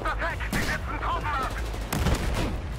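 Rapid bursts of gunfire in the shooter game Battlefield 4, loud and repeated in quick clusters, with a sharper burst near the end and little talk.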